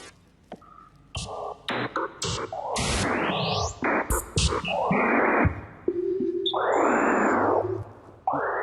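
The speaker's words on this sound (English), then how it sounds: "it's also like noisy, irregular, it's beeping tones" Image sonification maps pixel brightness to oscillator volume, producing noisy, irregular beeping tones and sweeping synthetic chirps that start and stop abruptly, with dense overlapping layers and a sustained swelling tone near the end.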